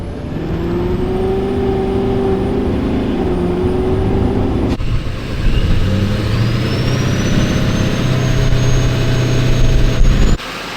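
Stock Duramax diesel truck fitted with a 10-blade turbo, driving with a loud close engine drone and a rising turbo whistle, a sharp shift midway, then pulling harder before a sudden cutoff near the end.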